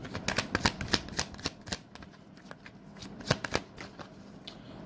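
Tarot cards being shuffled up close, a series of quick riffling flutters and soft slaps in uneven bursts.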